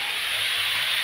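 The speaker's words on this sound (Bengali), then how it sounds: "এইবারটা ভালো করে আমি কষিয়ে নেবো।" Kashmiri chili powder and spice paste sautéing in a pan for a spicy egg dish, giving a steady, close sizzling hiss that holds evenly throughout with no voices.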